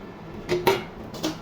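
Metal pot lid lifted off a pot of egg and potato curry, giving a few quiet clinks and scrapes in a short, sparse cluster with no talk.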